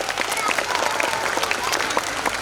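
Audience applause at an abacus academy national competition award function, a continuous, dense burst of clapping from a large crowd, fairly loud and steady.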